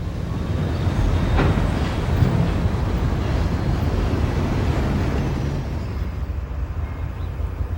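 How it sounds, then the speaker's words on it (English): A long freight train rolls through a town street, giving a continuous low rumble and wind-like rushing that stays loud and steady, with no voices. "the long string of freight cars passes through town"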